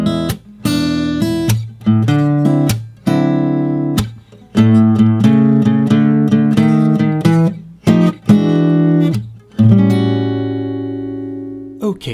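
Electric guitar plays a blues turnaround within a longer phrase, with a steady stream of picked notes and chords broken by brief muted gaps, ending on a ringing chord, loud and alone.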